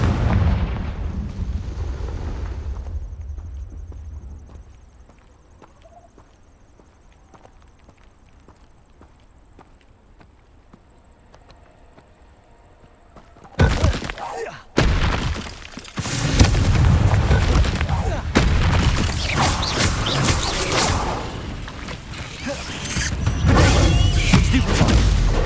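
A Confringo blast spell erupts in Hogwarts Legacy, a sudden loud explosive burst after a long quiet stretch, followed by rumbling, crashing combat noise that stays dense and heavy to the end.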